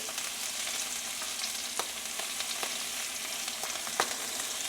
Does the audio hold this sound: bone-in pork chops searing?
yes